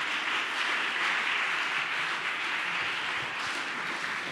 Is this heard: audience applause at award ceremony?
yes